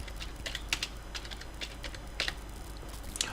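Keys clattering on a computer keyboard in short irregular bursts of taps with brief pauses, soft and close against a quiet background hum.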